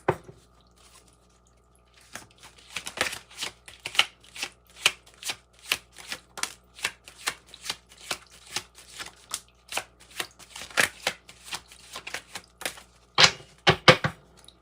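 A deck of oracle cards is shuffled by hand in a quiet room, a long run of crisp, close riffling taps and flicks in an uneven rhythm, ending with a few sharper snaps.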